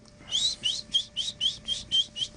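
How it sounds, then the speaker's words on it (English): Someone whistles loudly to call a dog, giving eight short rising whistle blasts in a steady rhythm over faint background noise. "I can go cross country with that whistle."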